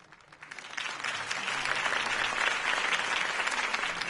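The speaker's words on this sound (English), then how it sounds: "could have heard that applause" Crowd applause at a political campaign rally in Batman: The Telltale Series, a dense wash of many clapping hands that swells in over the first second and then holds steady at a moderate, slightly distant level.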